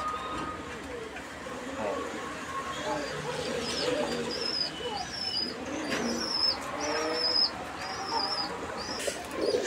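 A male pigeon coos repeatedly at a Bangladeshi fancy-pigeon sale. The calls sit among other birds' chirps and a busy, murmuring market crowd, and they continue steadily throughout.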